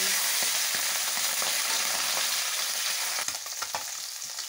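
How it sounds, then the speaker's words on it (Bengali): Fish rubbed with salt and turmeric fries in hot mustard oil, giving a loud, steady, close sizzle with a few stirring clicks and spatters near the end. "তেল গরম হয়ে গেছে, মাছগুলো ভেজে তুলে নেব।"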